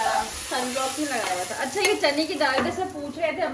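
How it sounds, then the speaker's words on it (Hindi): Onion, garlic, ginger and cumin tadka sizzling and spitting in hot oil, a steady loud hiss with crackles while someone talks over it in Hindi/Urdu. "साथ में जो है ना प्याज लहसुन अदरक और ज़ीरा जो है ना उसका तड़का"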